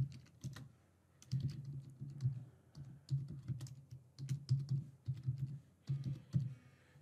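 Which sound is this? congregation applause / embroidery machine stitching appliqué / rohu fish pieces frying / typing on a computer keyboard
typing on a computer keyboard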